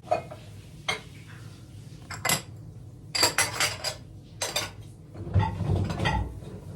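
Cutlery and dishes are set into a dishwasher in a home kitchen, giving a series of sharp metallic clinks and clatters in irregular bursts, close by and with no talking.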